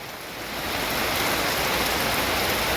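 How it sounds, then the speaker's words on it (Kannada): Steady, loud rain pours down outdoors in a village area, a continuous dense hiss that swells in the first half second and then holds evenly. "ಅಲ್ಲಿ ಪರಿಸ್ಥಿತಿ ನೋಡಿ ಮಳೆ ಬರ್ತಾ ಇದೆ"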